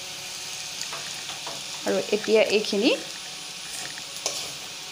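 Raw turmeric frying in a pan, sizzling steadily with a brief burst of stirring, while someone talks over it.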